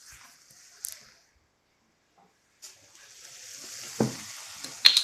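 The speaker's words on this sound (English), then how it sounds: "just a couple of drops of olive oil just to help toast those spices." Whole spices toasting in a dry pan with a few drops of olive oil, a faint sizzle and hiss that rises after a quiet pause, with occasional soft stirring clicks close by.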